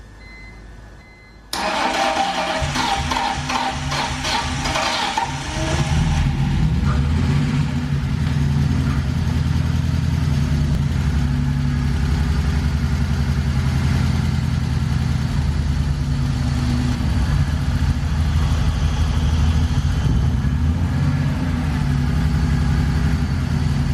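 A car engine, just repaired for leaks, cranks briefly and catches, then settles into a steady, loud, close idle with slight unevenness that continues to the end.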